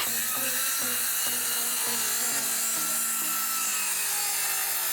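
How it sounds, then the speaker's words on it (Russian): Corded circular saw cutting through a wooden board, a loud sustained high-pitched whine with a rapid series of low rhythmic pulses early on, then a smooth steady cut to the end. "И теперь рез пилы с проводом."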